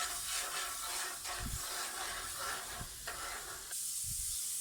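Kofta sizzling in a frying pan, a faint steady hiss of hot oil with occasional soft clinks and stirring bumps.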